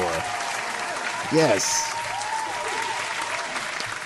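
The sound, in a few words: audience applause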